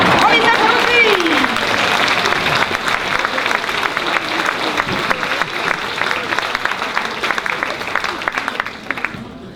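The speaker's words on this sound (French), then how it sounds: "On les applaudit!" Loud applause and cheering from an audience at a children's musical comedy show, dense clapping that starts strong and slowly thins out, with some voices mixed in.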